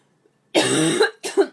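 A single person coughs nearby, one long harsh cough followed by a shorter one after a brief pause, with silence before.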